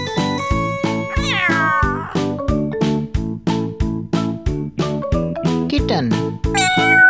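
A cat meows repeatedly over a steady rhythmic musical backing, with several drawn-out, rising meows standing out clearly.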